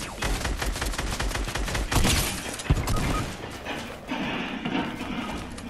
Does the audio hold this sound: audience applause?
no